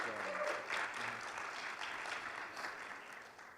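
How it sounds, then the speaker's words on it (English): An audience at a leadership talk gives a round of applause for the head of a large Interact club, dense steady clapping that holds evenly and sounds somewhat distant in the hall. "Yeah, give him a round of applause."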